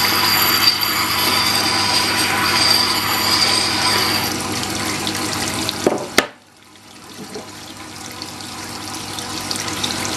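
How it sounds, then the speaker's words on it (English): A Jet water-cooled sharpening machine grinds a blade on the rough side of its stone. A steady, close wet grinding hiss with running water cuts off abruptly about two-thirds through, leaving a quiet hum. "now altering the grit with the rough side of the stone"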